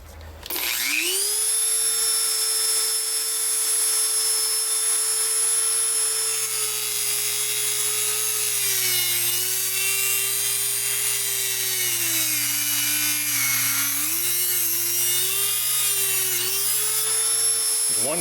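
A high-pitched power tool whines steadily while cutting off a Kadee coupler part on a Lionel O scale 40-foot reefer, loud and close, its pitch dipping slightly under load before spinning down at the end.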